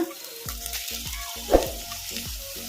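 Spinach and green chillies frying over medium heat for a palak buttermilk sambar, a soft steady sizzle punctuated by rhythmic spatula scrapes and stirs every half second or so, close up with no talking.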